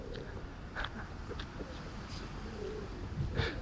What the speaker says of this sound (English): Not sure about the pigeons though.